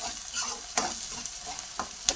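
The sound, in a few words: onions frying with cashews and curry leaves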